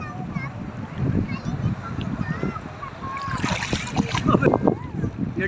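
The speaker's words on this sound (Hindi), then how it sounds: "इधर भी लहरें आ रही हैं" Sea waves wash and splash at the shore, with sloshing water and splatter building toward the end, while people talk and a voice is heard nearby.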